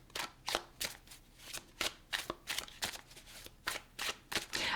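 Tarot cards are shuffled close up in quick repeated riffles, about a dozen crisp flapping bursts in an uneven rhythm, with no talking.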